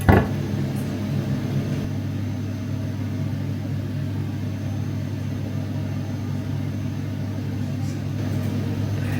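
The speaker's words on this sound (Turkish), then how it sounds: "buna kakaoyla çırpalım bakalım" An electric mixer whisks cake batter with cocoa, making a continuous low whirring drone that runs steadily throughout after a short clunk at the start, with no talking.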